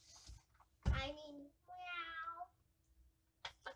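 A voice imitates a cat, giving one sharp meow and then a longer, drawn-out wavering one, with a faint short vocal sound near the end.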